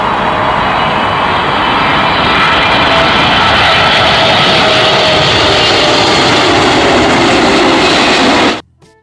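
Airplane passing in Jurassic World Evolution 2: a loud, steady, broadband roar that holds at full strength for about eight seconds, then cuts off abruptly near the end, with no voices.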